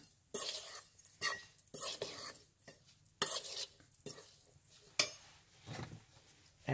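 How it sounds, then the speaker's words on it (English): A spoon stirs ground seeds in a bowl with soft, close scraping strokes in irregular bursts and quiet gaps between them, plus faint clinks against the bowl. "I have my spoon here. and stir this up."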